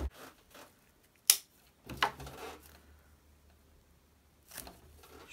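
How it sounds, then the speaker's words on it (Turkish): Scissors snip through paper yarn while a straw bag is being crocheted, a few short, quiet crisp cuts separated by pauses in an otherwise still room. "Şimdi ipi kesiyorum."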